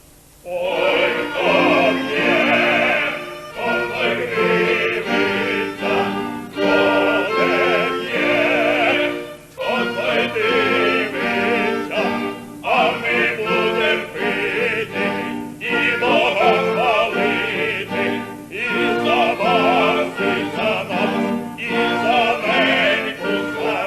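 Operatic voices sing the Ukrainian folk song "Oi, khto p'ie, tomu nalyvaite" with orchestral accompaniment, full and continuous, with brief pauses between phrases.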